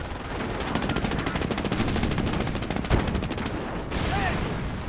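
Continuous machine-gun fire and rifle shots rattle in a war video game battle, dense rapid bursts with a sharp louder crack near the middle, over a constant low rumble of combat.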